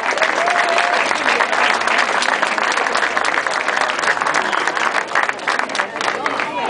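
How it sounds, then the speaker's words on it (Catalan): Crowd at the inauguration of a new artificial turf football pitch gives loud, sustained applause, dense rapid clapping with some cheering and crowd murmur throughout. "un fort aplaudiment per ells"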